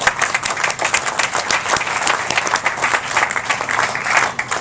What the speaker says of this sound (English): So a round of applause please for Terry and your team.